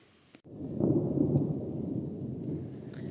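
Thunder rumbles on a farm in mid-August, a sustained low, heavy roll that swells after a brief quiet start and stays loud for several seconds, with no talking over it.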